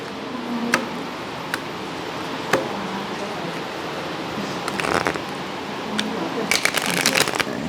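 A deck of playing cards is shuffled by hand in a close, quiet setting during a card magic act. A few sharp riffle snaps are followed by a denser flurry of riffling near the end.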